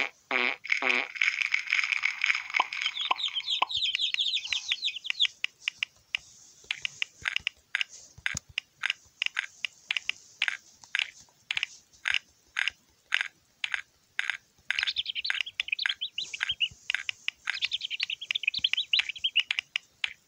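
Hungry chicks in a Peppa Pig game chirp in quick, bright bursts after an opening swell of tones, then go on as rapid repeated clicks and tweets, fairly close and with no talking.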